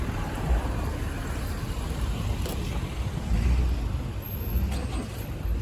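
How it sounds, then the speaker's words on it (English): Heavy street traffic at a Toronto intersection near Bathurst and Eglinton, including city buses, rumbles as a continuous roar of engines and tires with a louder swell partway through, heard from the sidewalk. "That's a shit ton of traffic."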